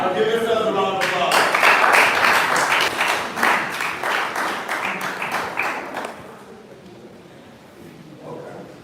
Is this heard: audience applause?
yes